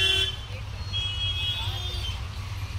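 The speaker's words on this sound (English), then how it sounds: "It's noisy. There's lots of traffic and cycle rickshaw drivers and plenty of dust." Busy street traffic in Lajpat Nagar, Delhi, with cycle rickshaws: a steady roadway rumble with sustained horn toots, moderately loud and close.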